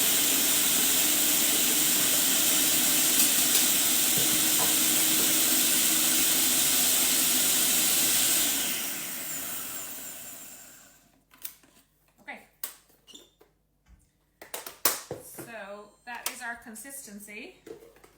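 A blender roars loudly and steadily for several seconds, then winds down and stops, followed by clinks and a person talking.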